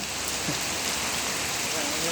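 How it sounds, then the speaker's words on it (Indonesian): Heavy rain pours down onto the grounds of the PLN UPPJ Sumbar office, a dense, even hiss of falling water that stays loud and constant throughout, with no voices. "Guyur hujan"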